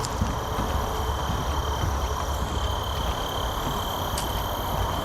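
A continuous chorus of crickets and other night insects hums outdoors by a lake, steady and moderately loud, with no speech.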